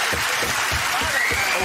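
A studio audience at a British comedy panel show claps and laughs in a brief, dense burst, with a voice talking over it.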